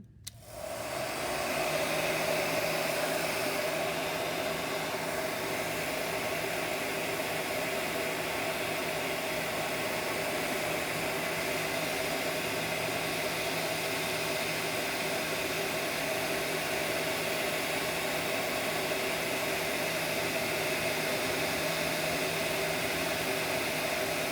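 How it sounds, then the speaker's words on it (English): A heat gun switched to its hot setting starts up and runs as a loud, steady blowing roar with a constant motor hum, continuing unbroken and close for the whole stretch. "with the heat gun, we want to turn it to the hot setting"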